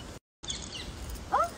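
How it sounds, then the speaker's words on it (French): A small bird chirps once near the end, a short faint call over a quiet outdoor background, preceded by a brief dropout. "entends le petit oiseau"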